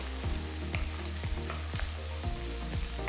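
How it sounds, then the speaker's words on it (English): Finely chopped onions frying in oil with whole spices such as anise, giving a constant close sizzle broken by regular dull knocks as the pan is stirred. "Next, I'm adding 2 large onions finely chopped. Let the onions cook well for about 2 minutes."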